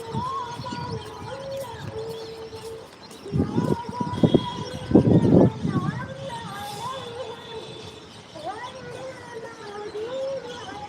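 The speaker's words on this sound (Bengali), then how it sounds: "এখানে আপনারা দেখতে পাচ্ছেন পাখিদের কলরব" Migratory birds chatter and call continuously in the open air over water hyacinth on the Narasunda River, with a burst of louder, busier calling partway through and faint voices in the background.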